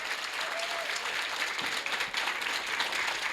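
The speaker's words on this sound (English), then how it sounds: "Please give them all a round of applause for taking the time to come here." An audience claps at a ribbon cutting ceremony for a regional water reclamation facility, a continuous even wash of applause from a crowd, close and moderately loud throughout.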